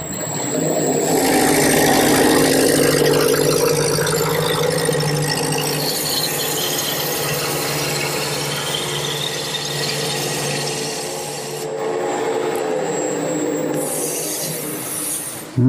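A wooden piece being turned and rounded on a lathe, a steady loud whirring and scraping of the tool cutting the spinning wood, continuous for the whole stretch with slight shifts in tone.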